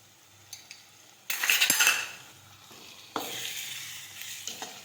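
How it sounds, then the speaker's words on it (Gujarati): Chana and urad dal with sugar, salt and lemon juice sautéed in a pan: bursts of loud sizzling alongside spoon scrapes and light clinks against the pan, close up. "હવે આપણે સાતળી લઈશું આ રીતે"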